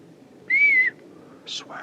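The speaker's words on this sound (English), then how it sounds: "That was a real whistle." A single sustained whistle tone held for about half a second, clear over a low background rumble, followed by brief chirpy sounds.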